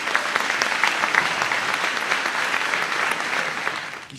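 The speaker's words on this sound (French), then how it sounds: "applaudissez Laura." Steady, loud audience applause at a stand-up comedy show, a dense wash of many hands clapping for a spectator named Laura, sustained evenly before tapering off at the end.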